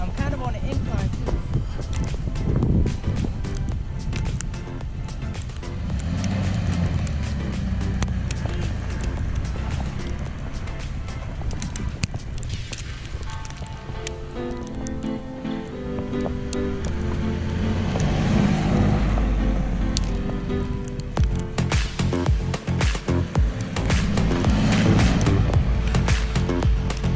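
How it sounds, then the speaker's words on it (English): A Jeep Wrangler in four-wheel drive churns through snow on an incline during a snowstorm, its engine rising and straining with crunching tire noise, while a voice talks over it. "So now I'm gonna try four-wheel drive. All right, four-wheel drive on."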